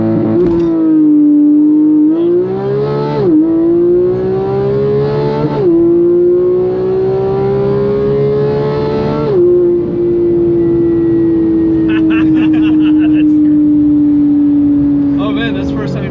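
A Porsche GT3 leaps away in launch mode, the engine screaming up through several rapid gear changes, each shift marked by a brief dip before the pitch climbs again. It is loud and heard from inside the cabin, with a passenger aboard.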